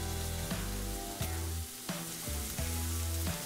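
Beef frying in a frying pan gives a continuous close sizzle, broken by several knocks and scrapes as the meat is cut and stirred in the pan.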